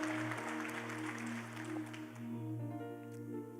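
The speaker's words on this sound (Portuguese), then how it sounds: "Então aplauda Jesus pela sua salvação na cruz do Calvário." A church congregation claps for Jesus during an evangelical service. A steady wash of applause rises and falls over sustained instrumental tones and lasts the whole span, with no clear voice on top.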